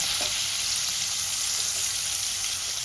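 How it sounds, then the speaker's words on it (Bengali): Paneer cubes fry lightly in hot oil with a steady, dense sizzle that holds evenly from start to finish, close and fairly loud with no voices. "আমি পনিরগুলো দিয়ে নিয়েছি, একটু ভেজে নেব, বেশি ভাজবো না"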